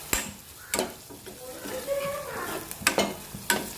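Chicken with turmeric, chili and pickle powder stirred in a hot pan over a low flame: a continuous close sizzle broken by sharp scraping strokes of a spatula at irregular intervals.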